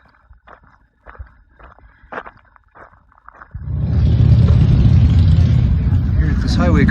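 Road traffic at a highway crossing on the Pacific Crest Trail. After a few scattered light taps, a close vehicle rushes in and holds as a loud, steady roar for several seconds.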